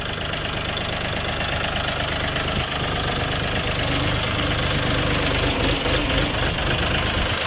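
A Shifeng 244 compact tractor engine idles loudly and close, a continuous rough knocking chug with no voices.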